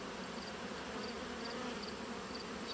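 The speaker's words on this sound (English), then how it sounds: "Lots of bees." Honey bees buzz in a steady, dense drone around an open hive whose colony has shut down brood rearing early, a soft continuous hum with no talk.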